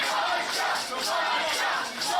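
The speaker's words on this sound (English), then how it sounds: "As the crowd gets behind Masha." Wrestling crowd at an indie show cheering and chanting in support of wrestler Masha as she fights a crossface hold, a steady loud roar with rhythmic swells like chanting.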